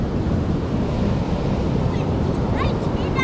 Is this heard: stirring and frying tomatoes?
no